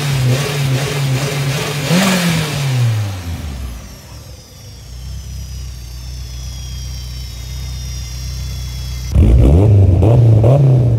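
A small Daihatsu K3-VE car engine revving hard after a valve clearance adjustment, loud and close, with one rising and falling rev, a drop to a steady idle, then another strong burst of throttle.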